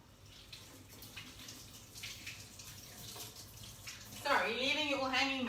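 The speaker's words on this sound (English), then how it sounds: "I'm just going to wash my hands quickly" Water runs from a kitchen tap in a home baking setting while hands are washed; the steady splashing stream sits under background noise and turns louder and clearer near the end, where a voice speaks over it.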